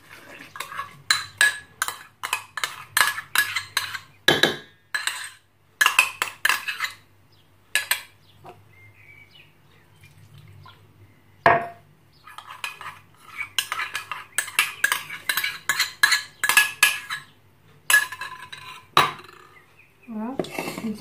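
A utensil clatters rhythmically against a bowl as dough is mixed with dissolved yeast, bursts of rapid scraping strokes broken by short pauses and a few sharper knocks, close and distinct with no talk over it.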